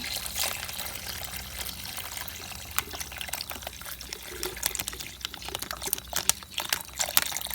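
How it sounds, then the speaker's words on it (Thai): Syrup is poured in for a homemade drink, giving a steady, close trickle of liquid with small splashes and no voices. "หรือน้ำเชื่อมของเราเทลงไปเลยจ้ะ"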